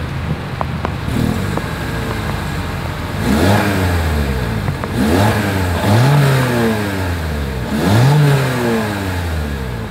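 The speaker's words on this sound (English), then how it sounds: "As always, here is that exhaust clip." A 2023 Toyota Corolla Hatchback's exhaust revs up and falls back four times in a row, each rise swelling loud and close before settling to a steady idle between bursts.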